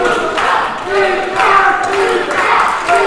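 A wrestling crowd at a FUSION Pro Super 8 Cup show roars steadily in waves of cheering, with a commentator's excited voice talking over the noise throughout.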